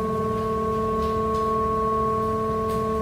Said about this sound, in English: So you could use additive synthesis to multiply two sine waves together.